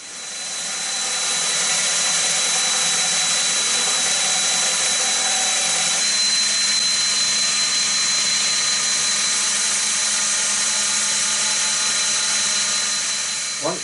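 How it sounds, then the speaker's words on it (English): A belt grinder runs steadily while grinding a knife blade for an old-style knife, a loud continuous whine with a slight shift in pitch midway, then winds down at the end. "I've only just started using this grinder"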